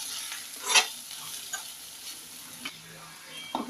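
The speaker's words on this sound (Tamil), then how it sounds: "இது எல்லாத்தையும் ஒரு வாட்டி கலரி விட்டுக்கலாம்." A spoon stirs ground spices such as cumin and garam masala into chickpea masala in a frying pan, giving soft scraping strokes and a quiet sizzle, with a few light clicks against the pan.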